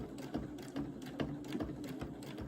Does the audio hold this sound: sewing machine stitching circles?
yes